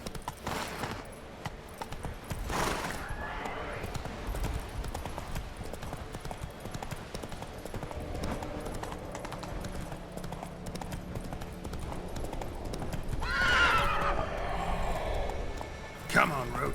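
Roach, the horse in The Witcher 3, clip-clops along in a steady galloping rhythm throughout, with a whinny near the end and a voice speaking over the hoofbeats.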